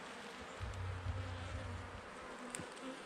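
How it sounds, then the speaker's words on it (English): Honey bees buzzing close by while being installed in a hive: a steady low hum swells and wavers throughout, with a few faint higher buzzes passing briefly. "there's a bee hatching right there"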